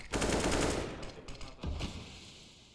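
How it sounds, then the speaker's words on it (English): Automatic rifle fire rattles through walls in a professional CS:GO match, a loud burst at the start and a second shorter volley that fades away. "Smoke spam. Wall bangs."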